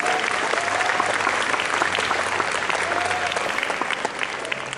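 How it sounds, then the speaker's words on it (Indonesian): Continuous applause from a school audience at an award ceremony for high-achieving students at a Jakarta senior high school, dense steady clapping close by for the whole stretch with faint voices underneath. "Berikan tepuk tangan kepada teman-teman."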